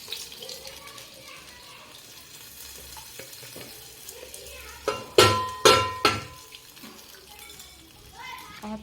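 A hot tempering of spices hits cooked dal with rasam poured in alongside, giving a few sharp sizzling bursts and stirring over kitchen background noise, with a voice speaking.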